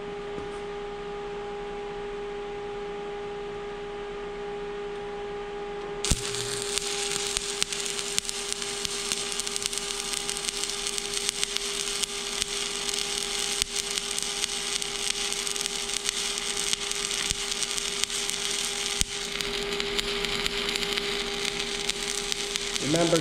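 Stick welding a vertical fillet weld with a 7018 3/32 electrode, a steady crackling hiss that starts abruptly after a few seconds of quiet hum and continues evenly to the end.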